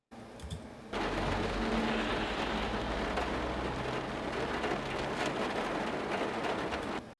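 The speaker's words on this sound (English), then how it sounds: "So we already heard this interior rain sound a little bit." Rain heard from inside a van, a dull, reverberant steady wash of drops drumming on the roof with a low rumble beneath, starting after a brief quiet moment and holding constant.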